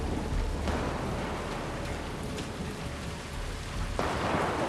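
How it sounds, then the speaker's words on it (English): Steady, dense rain falls in a stormy post-apocalyptic setting, a continuous broadband wash with a few louder surges, heard on its own without voices. "Even on a physical level, rain changes everything."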